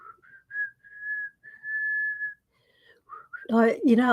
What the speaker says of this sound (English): Can you not do that whistling when you come on in the morning?